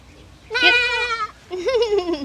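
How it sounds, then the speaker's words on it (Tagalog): Two loud, wavering goat bleats close by, the first high and shaky, the second lower and drawn out. "May kambing na dito"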